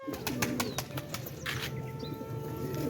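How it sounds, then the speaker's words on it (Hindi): Pigeons gathered at feed give soft cooing calls with light chirps and a brief burst of flapping wings over steady low outdoor noise, fairly faint and with no talking. "सारे कबूतर इस टाइम ये खा रहे हैं जी"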